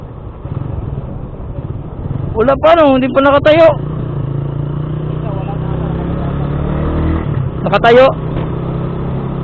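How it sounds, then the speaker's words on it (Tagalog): Steady morning road traffic with cars and motorcycles hums in the background, engines droning continuously while people talk nearby. "Ngayon lang yun kasi ngayon lang nag-build up yung traffic eh."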